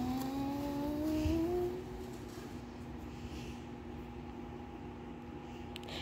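A car drives away: its engine tone slides downward and fades over the first two seconds, leaving a steady low hum behind.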